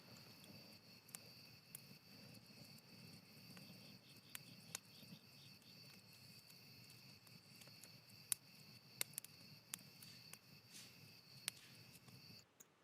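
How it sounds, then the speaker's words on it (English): Outdoor ambience with steady crickets chirping throughout, a soft bed of low environmental rumble beneath, and scattered brief clicks and ticks; no voices. "It's just outside ambience"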